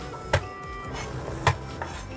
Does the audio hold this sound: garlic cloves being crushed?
yes